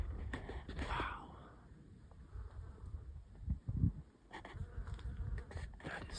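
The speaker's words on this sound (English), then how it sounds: "Tarantula wasp right there." A tarantula wasp buzzes in the desert, a soft continuous drone with low rumbling wind and handling noise close to the microphone, fairly quiet overall.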